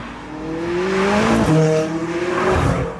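A McLaren sports car, a 675LT or 650S, drives past with a rising engine note that swells, shifts around the middle and then fades, loud and close with no talking.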